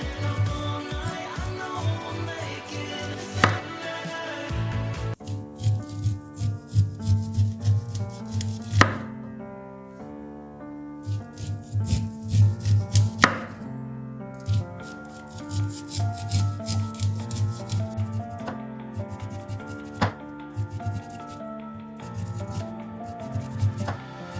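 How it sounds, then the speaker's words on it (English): Roasted sweet corn kernels are cut off the cob in repeated scraping, chopping strokes against a board, close and crisp, coming in uneven bursts with short pauses over soft background music. "So this is the way I'll be shelling it from its cob"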